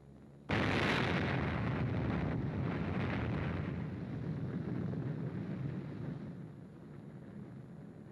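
The atomic bomb explodes over Nagasaki in documentary footage, opening with a sudden loud blast that becomes a long, rumbling roar, slowly fading over several seconds with no speech.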